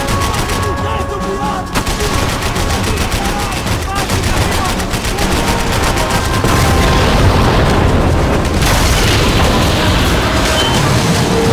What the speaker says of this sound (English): Bullets pushing past my head!